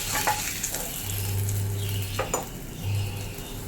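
Mackerel fish frying in a pan on low flame, Kerala style, a close steady sizzle with clinks and scrapes of a utensil turning the fish against the pan.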